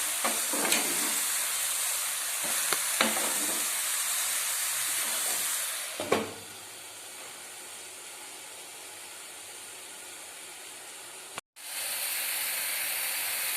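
Banana flower thoran cooks in a covered pan with a loud, steady hiss of frying and steam, broken by a few utensil knocks; the sizzle grows quieter after about six seconds and cuts out briefly near the end.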